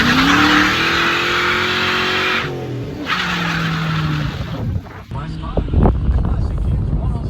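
A Ford Mustang drives past with engine revving, a gear shift and tire squeal, loud up close before fading, with people talking over it.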